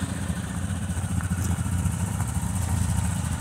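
An ATV engine idles steadily nearby, a continuous low chugging rumble with a light mechanical clatter and no speech.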